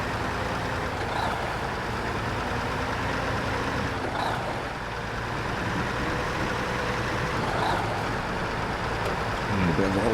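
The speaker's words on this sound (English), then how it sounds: "Fire those engines up, or that engine up," A heavy truck engine in the off-road driving game Snowrunner runs at a steady, loud idle for about ten seconds, a low continuous rumble with no pauses and no voices over it.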